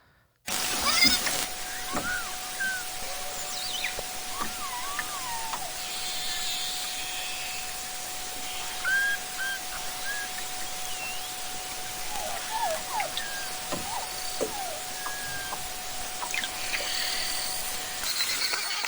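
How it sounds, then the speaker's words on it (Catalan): Beluga whale song: a series of short chirps, whistles and rising squeals scattered over a steady underwater hiss, with one long sustained tone running throughout, moderately clear and without any talk. "Arriba l'hora d'escoltar el cant de la beluga, coneguda per la seva harmonia, la seva melodia i el seu color blanc distintiu."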